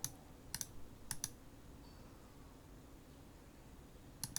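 Keys tapped on a computer keyboard while arranging drawing views in SketchUp, heard as a few short clusters of clicks near the start and again at the end, with a quiet gap between them.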